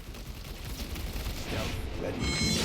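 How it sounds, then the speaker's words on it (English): Bolt SMG fire in Warhammer 40,000: Space Marine 2, a fast continuous stream of shots building in loudness over a short stretch, close and forceful, with a voice faintly present beneath. "come right out with my Bolt SMG already firing"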